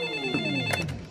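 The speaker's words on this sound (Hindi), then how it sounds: "फोन की घंटी बज रही है।" A telephone rings loudly and close by, its bright electronic ring pulsing with a quick warble over a low musical background.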